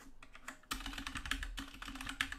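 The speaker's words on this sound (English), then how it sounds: "So we'll go ahead and type" Fingers type a short word on a computer keyboard: a quick run of close, crisp key clicks in irregular bursts, with a brief pause near the start, heard alone without talk.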